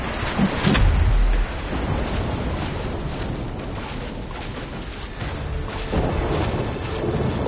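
A video game superstorm with rumbling thunder and steady rain, a loud low boom near the start and then continuous wind-driven storm noise filling the rest.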